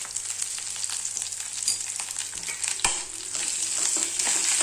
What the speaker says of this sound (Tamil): இப்போ நம்ம உருளைக்கிழங்கு போட்டுக்கலாம். இதில் கொஞ்ச நேரம் வதக்கி